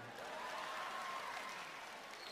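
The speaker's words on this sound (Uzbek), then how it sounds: "Kim olqishlab turmasa ersiz qolsin Iloyim" Audience at a poetry recital bursts into steady, even applause, a faint, distant wash of many hands clapping that holds throughout with no pause.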